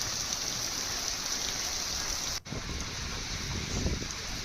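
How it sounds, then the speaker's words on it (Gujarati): Heavy monsoon rain pours in Ambaji, Gujarat, a constant dense roar of falling water close by, broken only by a brief dip midway, with no voices. "ગુજરાતના અનેક વિસ્તારોમાં જ્યારે વરસાદ પડી રહ્યો છે"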